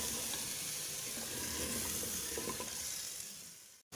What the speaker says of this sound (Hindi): दही डाल के इसको अच्छी तरह जब तक दही का पानी नहीं खुश्क होता तब तक भून लेंगे।